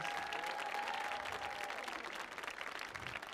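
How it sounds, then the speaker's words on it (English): Applause from a stage audience for a stand-in performer, steady dense clapping that fills the space and tapers slightly toward the end, with no voices over it. "So give him a round of applause"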